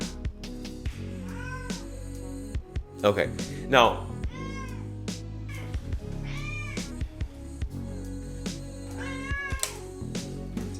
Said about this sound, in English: Sorry, my cat's acting up again.